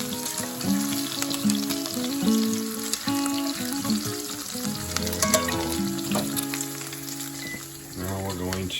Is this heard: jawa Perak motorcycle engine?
no